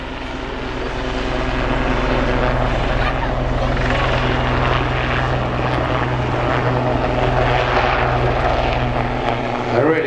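A Royal Navy Lynx HAS3 helicopter of 815 Squadron flies a display at the East Fortune Airshow, its loud, steady rotor thrum and turbine drone filling the air continuously, with a commentator speaking over it.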